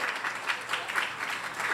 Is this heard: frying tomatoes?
no